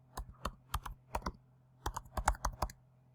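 Login credentials being typed on a computer keyboard, for signing up to a virtual class, come as two clusters of crisp, close keystrokes separated by a short pause, with no talking.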